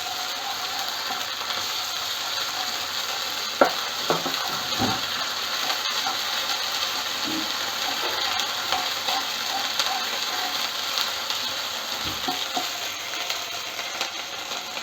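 Ginger garlic paste stirred into a hot pan for butter chicken, with a steady background sizzle and a few scattered scrapes and knocks of a spoon against the pan.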